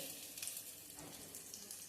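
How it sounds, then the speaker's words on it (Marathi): Poha roasting crisp in a hot pan on low gas, a faint steady sizzle and hiss across the whole moment with light irregular crackles, quiet and close, nobody talking. "आपण मस्त असे खरपूस भाजून घेणार आहोत"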